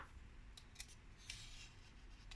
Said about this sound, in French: Vous découpez ces rectangles là.